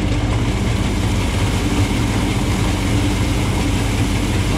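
A 5.5 kW electric motor on a farm runs in a steady, loud low hum with constant mechanical drone and no break.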